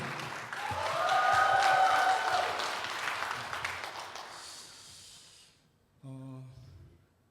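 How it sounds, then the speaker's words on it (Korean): A church congregation at a Sunday afternoon service breaks into loud applause that swells and then gradually tapers off, followed after a short pause by a brief sustained tone. "그리고 이 박수 그대로 하나님께."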